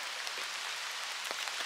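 Rain falling at Woodland Park Zoo in Seattle, a steady hiss of drops on surfaces with a few louder individual splashes, close and continuous with no voices.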